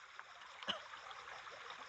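River water flows steadily as a soft, continuous broadband wash, with one brief splash or knock partway through, heard alone with no talk.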